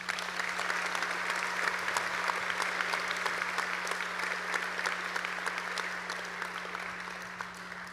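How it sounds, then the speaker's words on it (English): A large audience at a high school graduation ceremony applauds educators, a broad, even wash of clapping with a steady hum beneath, sustained throughout and easing slightly toward the end. "Let's give them a round of applause."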